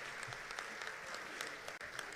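Steady applause from an audience at a turban-tying honour for a chief justice, a dense even patter of many hands clapping throughout, fairly faint and distant in a hall.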